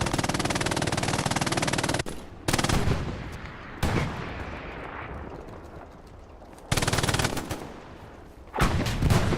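MG42 machine gun in Hell Let Loose fires long, loud sustained bursts, broken by short pauses between strings of rapid shots, with a rumbling battlefield bed underneath.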